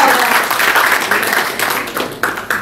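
Audience applause at a Hitex event, a dense wash of many hands clapping steadily at close range, swelling in bursts toward the end, with a few voices calling out under it.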